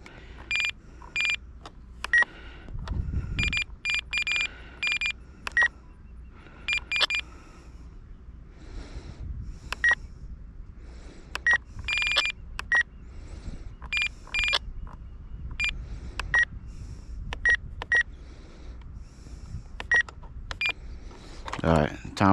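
RC transmitter for an E-flite Viper 90mm EDF jet being set with a timer, giving a long series of short electronic beeps in irregular bursts, with people talking at times between them.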